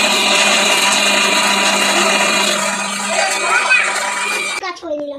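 A kitchen mixer grinder runs loud with a steady high whirring drone, then cuts off abruptly near the end as the motor winds down; children's voices chatter over it.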